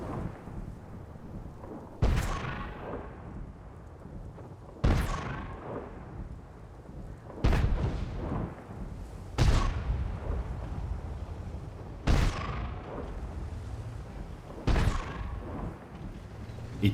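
Shell tracers passing by in World of Tanks, heard as six sharp, loud cracking booms spaced a few seconds apart, each trailing off into a rumbling decay, with no talking between them.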